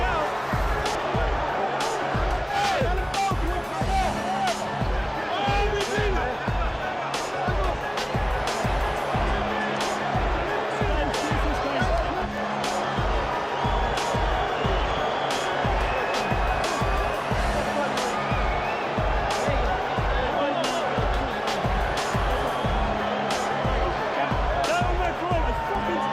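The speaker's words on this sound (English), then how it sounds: "Stunned crowd here at the MCI Center in Washington, D.C." Murmuring crowd at a 2005 heavyweight boxing match at the MCI Center in Washington, D.C., a continuous arena hubbub under a commentator's voice that talks over it throughout.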